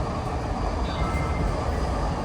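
A train rolls toward Kensington station in Philadelphia, a steady low rumble of the rail car with constant track noise throughout.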